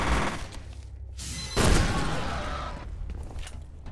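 A video game grenade detonates with a loud, sudden blast about midway through, then trails off into a long, crackling rumble over steady background game noise.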